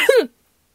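A single short, close cough, dry and abrupt, followed by silence.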